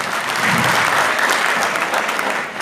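Continuous audience applause at a wellness company's Diamond celebration in Rajouri city, a dense, even wash of many hands clapping that fades slightly at the very end.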